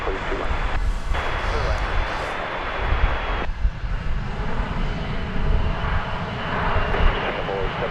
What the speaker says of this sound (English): So, lots of planes.